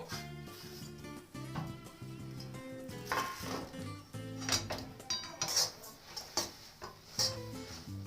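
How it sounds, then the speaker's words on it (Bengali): Sesame seeds stirred in a pan over a low gas flame for a Lakshmi puja prasad, giving repeated light scrapes and clinks of the utensil against the pan, some sharper knocks, over steady background music. "ভালোভাবে সব শুদ্ধ আমি নাড়াচাড়া করে নেব"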